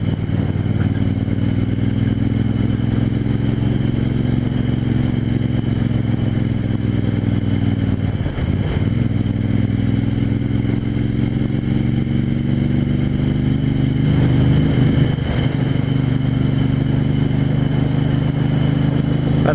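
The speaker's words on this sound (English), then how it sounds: "I love that rasp from the exhaust." Engine of a 1974 Moto Guzzi 750S motorcycle running steadily with a deep, meaty exhaust rasp, loud and close throughout, with two brief throttle blips midway.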